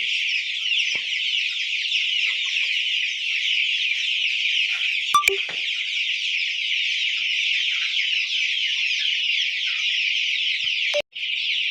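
Chickens on a low-cost poultry farm cluck and chatter in a dense, continuous flock clamor, with a couple of brief clicks and knocks nearby.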